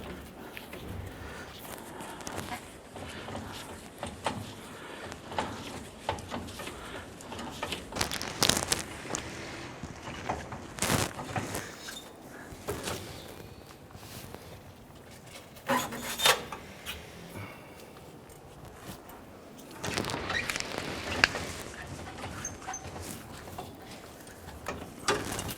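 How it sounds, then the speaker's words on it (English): A spare tire hoist under a Nissan Frontier bed is cranked by hand, its chain drawing the tire upward with irregular metallic ratcheting, clanks and scraping spread through the clip, fairly close and moderately loud. "as we crank it, you can see that chain start to pull that up"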